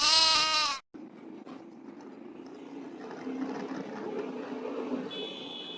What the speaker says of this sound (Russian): Баран, бывает